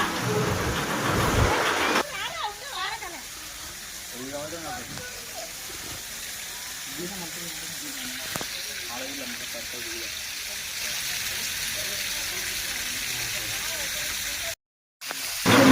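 Water rushes steadily at the Paladhara Panchadhara stream in Srisailam, a continuous hiss that stays loud at first, then sits under someone talking for most of the stretch.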